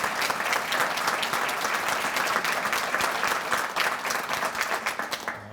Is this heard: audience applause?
yes